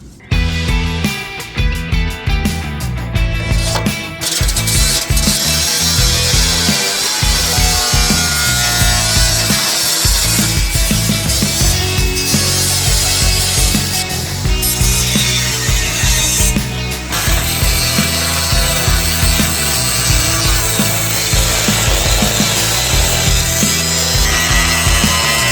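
Sawing through welded metal bars during a backyard pond cleanup, a steady, loud rasping cut that runs almost continuously with brief pauses, no talking over it.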